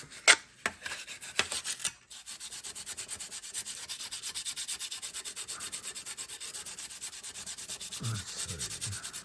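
A Scotch-Brite pad scrubs paint on an RC truck body, a steady close rasping rub in even back-and-forth strokes, preceded by a few sharper scuffs and tearing sounds at the start, with no talking.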